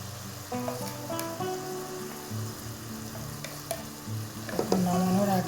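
Eggs frying in bubbling oily gravy in a pan while being stirred, a steady close sizzle with scraping stir sounds and a few clinks over it.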